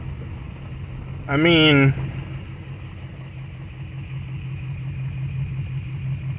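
Inside a car, a low steady engine idle hums throughout, briefly overlaid by a short spoken phrase.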